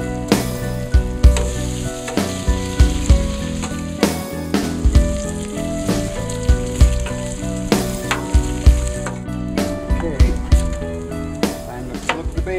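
A pound of bacon frying on an outdoor griddle crackles and sizzles steadily, with regular louder pops and scraping knocks from a spatula recurring every second or so.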